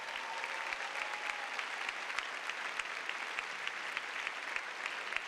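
Steady applause from a commencement ceremony audience, dense even clapping sustained throughout, heard at a moderate distance with no talk over it.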